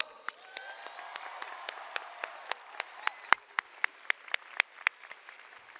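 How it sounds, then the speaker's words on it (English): Sparse, scattered claps ring out in a large commencement hall, thinning into a few separate sharp hand-claps at moderate distance rather than a full ovation. "Let's give them a round of applause."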